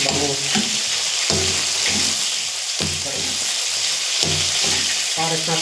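Tilapia frying in a pan, a steady loud sizzle with crackling and bursts of spattering oil, while a faint low thumping repeats beneath it.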